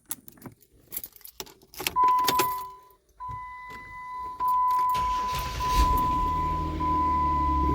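Keys jangle and clatter in a Jeep Wrangler JK with a 3.8L engine and a newly replaced starter, a steady chime tone sounds, then the engine cranks and catches, settling into a steady idle rumble nearby.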